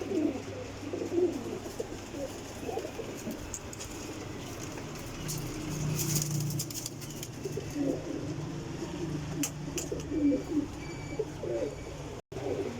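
Young pigeons kept at a pigeon loft coo in a steady, low, continuous murmur with scattered softer chirps, close by and with no talking, and a faint hum of passing traffic underneath.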